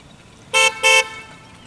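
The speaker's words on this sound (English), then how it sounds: "hear the horn? There's the horn." Two short honks from the horn of a homemade all-wheel-drive electric quadracycle pickup, heard outdoors on a road, the second blast slightly longer, loud and clear against quiet background.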